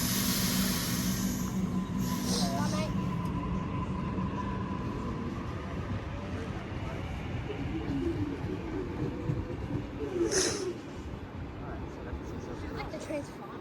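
A train pulls away from the platform at Flemington station, a sustained low rumble with hissing and a couple of brief higher tones, while a voice can be heard over it.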